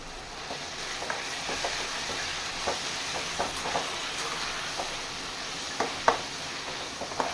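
Onions with turmeric powder sauté in hot oil with a constant crackling sizzle, punctuated by occasional scrapes and taps of a spatula stirring the pan.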